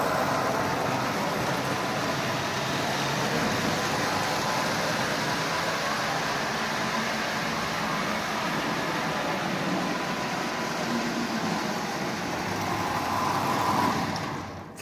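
A Marx B&O diesel toy locomotive's electric motor runs forward with a steady, even whirring hum that continues unbroken close by, ending in a sharp click.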